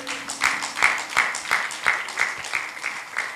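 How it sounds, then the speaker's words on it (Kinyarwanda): A church congregation claps in a rhythmic, unified beat, with sharp regular strikes roughly every third of a second and a voice sounding over them. "Amashyi menshi ku mwami Yesu Kristo"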